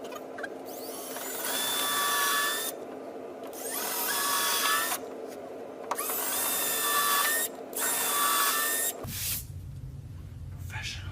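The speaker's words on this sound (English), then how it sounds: "now we're going to drill into the wall, right into the stud" A power drill bores into a wooden wall stud for a corner TV mount, whining loudly in several long sustained bursts with brief pauses between them, then cutting off into low background noise.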